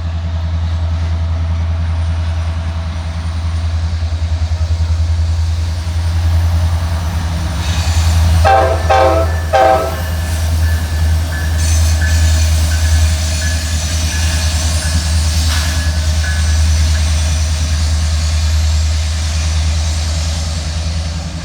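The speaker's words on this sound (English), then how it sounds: "We got a train coming up the hill right now." Diesel locomotives haul a coal train up a grade on Horseshoe Curve, Pennsylvania, with a steady, loud engine rumble throughout and two bursts of horn blasts partway through. No one speaks.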